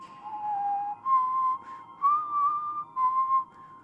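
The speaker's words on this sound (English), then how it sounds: "whenever I whistle" A person whistles a slow, wavering tune of four sustained notes with short gaps, close and clear against a quiet background.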